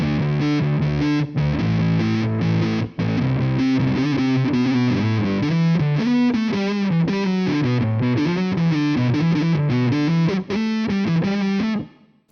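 An electric guitar played through heavy distortion and effects rings out in loud, sustained chords and riffs for about twelve seconds, stopping abruptly at the end.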